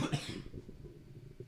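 A man coughs during a podcast interview, with one sharp cough at the start followed by fainter, raspy breaths and throat noises, close to the microphone.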